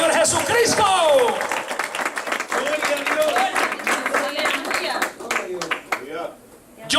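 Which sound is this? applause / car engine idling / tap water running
applause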